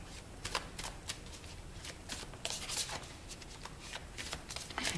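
Tarot cards being shuffled by hand, a series of crisp riffling bursts and soft slaps, close and fairly quiet with no talking.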